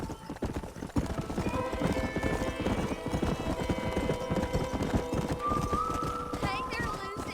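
Horse in the Red Dead Redemption video game, hooves clip-clopping steadily up close with a whinny near the end, under character dialogue and ambient game sound.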